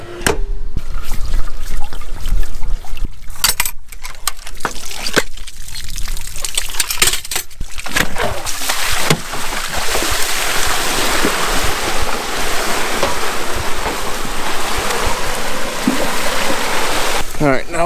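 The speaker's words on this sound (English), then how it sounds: "All right, now we'll turn this water on, kind of do a little quick wash." Water rushing through an irrigation pivot line on a farm, a loud, continuous hiss and roar that builds and stays steady, with a speaking voice heard over it.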